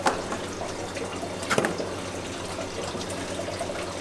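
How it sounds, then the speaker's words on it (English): Water drains from an overskimming protein skimmer on a large walk-around aquarium, a quiet, steady trickle with a couple of brief splashes, and no voices are heard. "I'm going to start by draining water from the skimmer"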